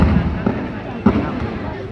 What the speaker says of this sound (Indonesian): Itu senjata ya. Tembak.